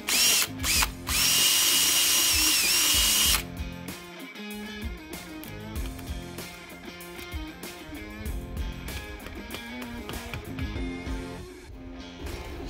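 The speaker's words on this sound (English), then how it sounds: "make sure your drill bit's a little bit smaller than the anchor" A power drill whines loudly for a few seconds as it bores into a hard stucco wall, followed by clattering handling noises and tapping.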